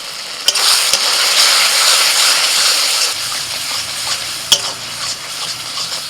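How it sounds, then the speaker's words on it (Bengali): Tomato paste, turmeric, cumin, coriander, Kashmiri chili powder and salt sizzle and hiss as they are stirred in a hot pan, a steady close frying sound broken by a couple of spoon knocks. "মশলা ভালো করে কষিয়ে নিয়েছি"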